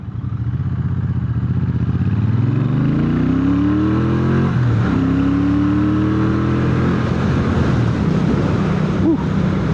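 A modern retro motorcycle accelerates on a road ride, its engine rising steadily in pitch through a gear, dipping at a shift and climbing again, loud and continuous over wind noise.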